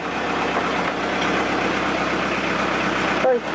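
A newly installed boat engine idles aboard a sailing boat in Darwin, a steady, even low hum running throughout at close range, fairly quiet, before a brief knock near the end.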